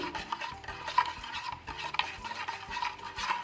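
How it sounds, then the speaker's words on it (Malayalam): Spoon stirring hot milk into a spicy chilli Horlicks drink, a steady rhythmic scraping and clinking close by, with soft repeated strokes against the cup and no voices. "ആദ്യം നമ്മൾ കുറച്ച് മാത്രം ഒഴിച്ചു കൊടുക്കുക. എന്നിട്ട് നന്നായിട്ട് മിക്സാക്കി"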